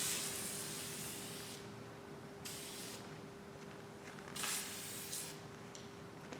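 Duplicolor lens coat sprayed from an aerosol can onto a headlight: several quick hissing bursts of varying length with short gaps between them, close and fairly quiet, with a faint steady tone in the background and no talk.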